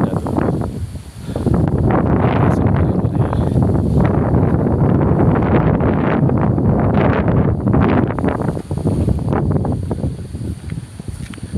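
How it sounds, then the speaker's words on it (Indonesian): Strong wind roars around a roadside food stall in a continuous loud rush, buffeting the microphone with heavy, rumbling gusts from start to finish. "Siapa tahu angin mendadak dengan berhembus."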